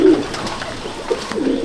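Racing pigeons in a loft give a few soft, low coos close by, with short breathy calls spread across the moment.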